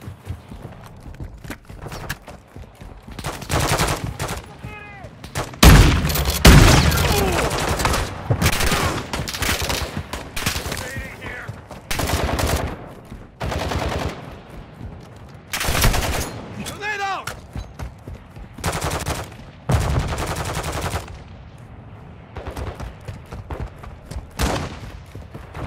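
Gunfire from the video game Call of Duty Modern Warfare 2 in DMZ mode with shotguns: loud, irregular bursts and single shots spread throughout, with voices talking between volleys.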